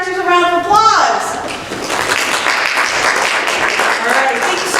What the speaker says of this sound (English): Let's give our actors a round of applause